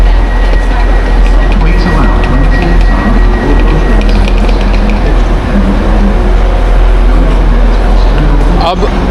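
Train at Manchester Airport railway station, a loud continuous rumble with platform ambience and a faint tonal whine, with voices talking over it.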